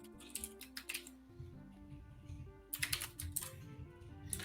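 Rapid keystrokes on a computer keyboard during a Kotlin coding session, coming in close, uneven bursts of clicks with short pauses and no one talking.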